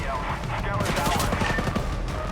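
Sniper fire in a video game: a loud, dense burst of rapid gunshots fills the whole moment close up, with no talk over it.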